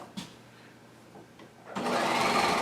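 Sewing machine stitching a curved waistband, a few faint handling sounds first, then the motor starting and running in a steady, close whirring buzz.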